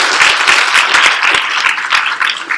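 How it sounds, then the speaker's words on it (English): A lecture-hall audience at a machine learning class gives a brief round of applause, a dense, loud patter of many hands clapping close together. "So let's give him a round of applause."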